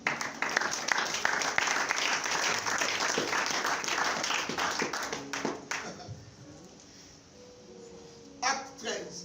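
A church congregation breaks into loud, steady applause for several seconds, the clapping thick and continuous before it thins out and a single voice carries on alone.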